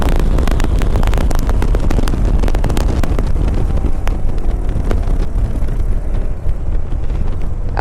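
A Suzuki Boulevard S83 motorcycle rides on a test drive, its engine a loud, dense rumble buried under heavy wind buffeting on the microphone, continuous throughout with no talking.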